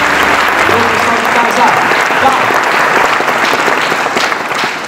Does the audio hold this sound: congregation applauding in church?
yes